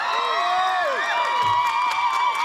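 A Scottish crowd at the junior women's foil individual fencing final cheers loudly and continuously, with shouts and whistles carrying over a steady roar of the arena.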